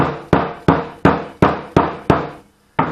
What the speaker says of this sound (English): this part of the hammer is hitting this lip